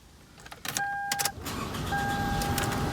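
A Toyota car is switched off, with a few close mechanical clicks and a brief electronic chime, then a steady low hum settles in the cabin.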